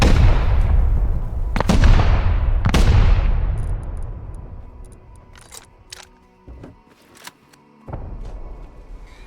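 Gunfire and explosions during a raid in the Rust video game: a couple of loud booming blasts with long decays, followed by scattered sharper, fainter shots and clicks.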